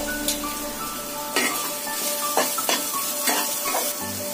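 Vegetables stir-frying in a pan for egg fried rice with onion, ginger-garlic paste, capsicum, green chilli and cabbage: a steady sizzle broken by several sharp scraping stirs of a spatula against the pan.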